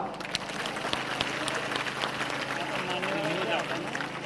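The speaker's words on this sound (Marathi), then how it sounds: "एकदा जोरदार टाळ्या वाजवा" Audience clapping loudly at a Marathi kirtan, with dense hand claps from a crowd mixed with a voice and other crowd noise, sustained throughout.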